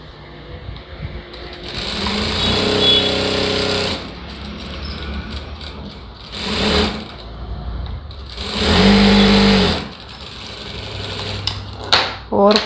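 Sewing machine stitching blouse lining runs in bursts: a long whirring run, a short one, then another loud stretch, with quiet pauses and brief clicks between.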